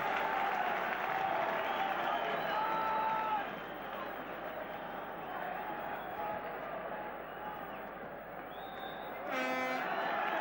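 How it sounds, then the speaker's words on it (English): Aberdeen supporters in a stadium crowd applaud and cheer at half-time of a 1983 Cup Winners' Cup match against Bayern Munich, a steady dense roar of clapping with a brief whistle-like tone near the end. "The Aberdeen supporters cheer their favourites off."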